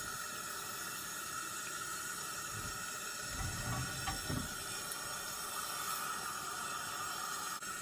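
Butter sizzles in a hot pan at a forest campsite, a steady, close hiss that swells briefly midway as the pat hits and spreads, with faint outdoor background.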